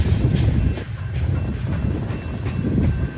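A freight train led by Canadian Pacific locomotives rolls along BNSF tracks, a steady loud low rumble of passing cars with some wind buffeting the microphone.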